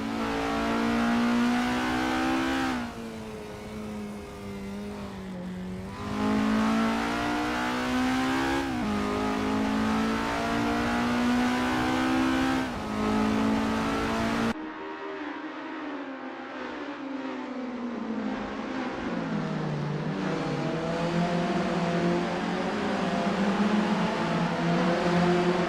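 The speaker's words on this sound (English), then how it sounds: "Daniel is on their out lap, warming up the tires and getting ready to put in a fast lap time." Isuzu Bellett GTR in Assetto Corsa at Sportsland SUGO, engine droning steadily on an out lap, loud and close, with pitch rising through revs and dropping at gear shifts, no voices.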